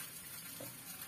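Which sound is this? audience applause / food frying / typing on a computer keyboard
food frying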